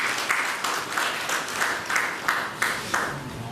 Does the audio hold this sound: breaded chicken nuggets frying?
no